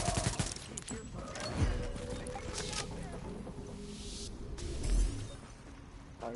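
Gunfire crackles in The Division video game, bursts of automatic shots and impacts under a voice talking over the action, moderately loud with a heavier swell near the end.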